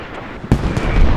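Heavy artillery explosions from the hell cannon in the video game Squad, a loud booming blast followed by rolling, rumbling detonations, close and dense with no talk over it.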